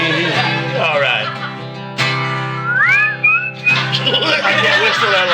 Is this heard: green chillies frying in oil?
no